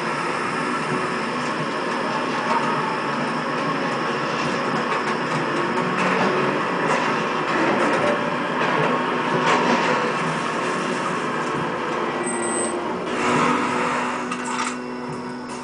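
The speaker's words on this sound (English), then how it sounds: "Alright, taking the train back to town." A train ride in the video game Far Cry 2 produces a steady rumbling, rattling clatter of rail cars, with a brief high whine near the end, continuous and fairly loud, without talking.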